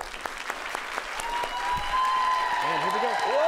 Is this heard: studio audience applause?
yes